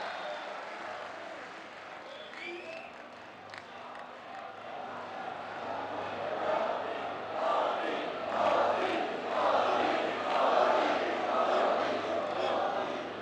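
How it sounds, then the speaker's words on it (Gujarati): A large crowd greets Prime Minister Narendra Modi at a public project inauguration with loud applause and cheering that swells and grows denser over several seconds, with voices mixed into the roar. "આવો જોરદાર તાળીઓના ગુંજ સાથે તેઓને આમંત્રિત કરીએ તેઓના ઉદ્બોધન માટે"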